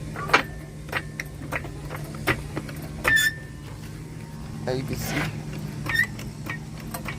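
Shop vehicle lift raising a 2018 Ram 1500 HEMI pickup: a low steady hum with regular clicking ticks, heard under someone talking.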